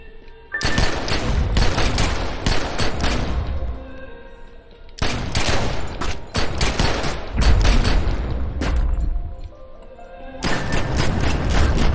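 Rapid bursts of dual pistol fire from The Secret World game, loud and close, coming in three long volleys with short pauses between them.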